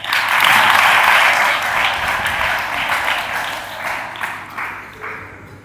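Children in a gurukul classroom clap their hands together in a burst of steady applause that starts loud and gradually fades over several seconds.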